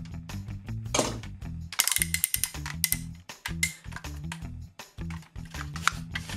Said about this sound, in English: Head is on a full swivel. Very nice clickety ratchets.